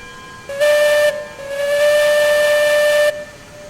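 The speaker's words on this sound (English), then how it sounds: "then we'll be whistling out and off on our trip" A steam locomotive whistle in the railway game Railroads Online blows two loud, steady blasts, a short one and then a longer one after a brief gap, over a background hiss of steam.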